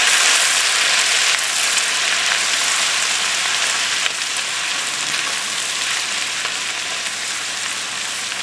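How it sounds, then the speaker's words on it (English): Garlic frying in oil in a skillet for Brussels sprouts, giving a steady, dense sizzle that runs continuously and evenly throughout at close range, with no voices. "I'm just going to stir that around and allow it to cook and allow that garlic to get fused in with the oil"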